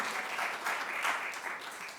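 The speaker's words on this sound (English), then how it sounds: "Can we give a big round of applause for the next people coming to the stage?" A crowd at a multidisciplinary poetry and storytelling night claps for the next performers, a soft, fairly distant wash of steady applause with no voices.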